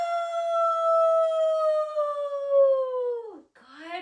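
A group of voices imitates a loud, sustained wolf howl that holds steady for over three seconds, then slides down and breaks off before a short rising second howl begins.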